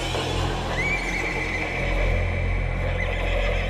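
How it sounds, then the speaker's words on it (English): A horse stung by a stingray lets out one long, loud, drawn-out neigh of pain over a constant low rumbling background, with no talk. "Caballo da un relincho, ¿viste? Al ser picado ya."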